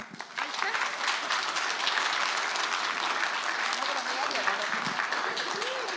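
Concert audience at a youth folk heritage festival on the Estonian islands bursts into loud, sustained applause, dense clapping filling the whole stretch with no pauses.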